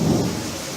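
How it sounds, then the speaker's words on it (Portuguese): Thunderstorm with a loud rumble of thunder over steady rain, the roll swelling at first and then easing into a continuous wash. "Veio a tempestade."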